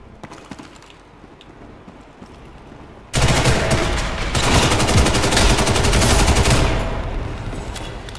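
After a few seconds of quiet ambient game sound in Ghost in the Shell Online, loud sustained automatic gunfire suddenly breaks out and rattles on steadily for several seconds before easing slightly.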